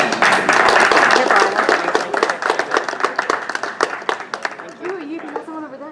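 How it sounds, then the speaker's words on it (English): Clapping at a retirement party: a dense burst of applause from a group that thins into scattered individual claps, with voices talking over it and one voice rising near the end. "You can have someone over there clapping for you."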